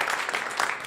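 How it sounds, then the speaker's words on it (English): Comedy club audience clapping in a dense, steady burst of applause, loud and continuous, with no voices standing out. "Pre-applause, I like it."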